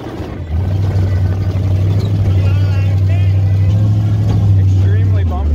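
A monster truck engine runs with a loud, deep, steady drone throughout a ride, its pitch shifting slightly as it revs, while voices talk and shout over it.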